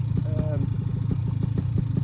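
A Vitorazzi EFI paramotor engine idles steadily during break-in, a low, even mid-pitched drone with a fast pulsing beat, close and continuous for the whole stretch.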